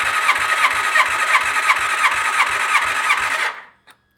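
A BMW S1000RR motorcycle engine cranks over on the starter during a compression test, a loud rapid rhythmic churning that runs for about three and a half seconds, then cuts off with a short click.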